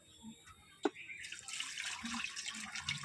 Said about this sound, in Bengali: এখন মাংসটা ধুয়ে নিব